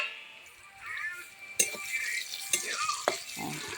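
Bitter gourd slices frying in a pan as the lid comes off: a faint sizzle under sharp metallic clinks and scrapes of stirring, with a few louder knocks.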